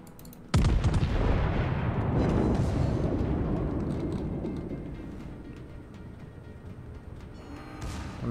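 Naval guns fire in World of Warships, one sudden heavy boom with a long rumbling tail that slowly fades, loud and alone.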